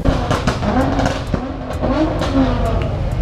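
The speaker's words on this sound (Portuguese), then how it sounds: "Esse é o Lancer Evolution, Lancer do Visa. Já foi o carro mais rápido da Angola" A Mitsubishi Lancer Evolution drives past in Angola, its engine droning steadily and fairly loud with a few sharp transient bumps, continuous road and engine noise throughout.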